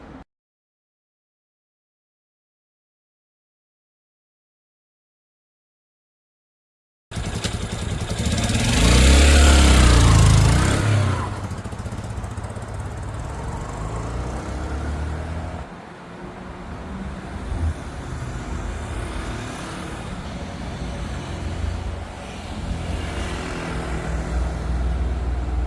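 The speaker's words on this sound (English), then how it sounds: "the bike runs and rides really nice considering how unloved it's been for God knows how long" A cheap, long-neglected motorbike starts after a silent stretch, its engine swelling in a loud pass nearby, then running on at a steady, moderate level as it is ridden.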